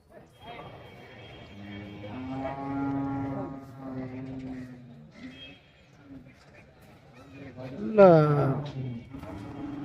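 Cattle low at a Pollachi cattle market, with long bellowing moos rising over a busy crowd and people talking nearby, and a sharper call near the end.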